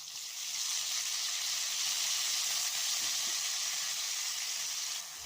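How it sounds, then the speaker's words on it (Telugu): Green chillies fry in hot oil as cumin seeds go in, giving a steady, loud, even sizzle and hiss that holds for about five seconds with no voices over it. "పచ్చిమిరపకాయలు అయితే ఫ్రై అవుతున్నాయి కదా, ఇప్పుడైతే కొంచెం జీలకర్ర అయితే వేసుకుంటున్నాను"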